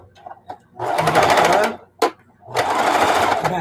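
A sewing machine stitches down the corner of a quilt binding in two loud, fast running bursts, separated by brief clicks and a pause, heard close up.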